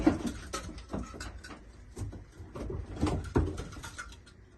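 Spanish pigeons, including Rubella-marked birds, coo softly inside a coop, low murmuring calls mixed with light shuffling and wing patter, close and fairly quiet.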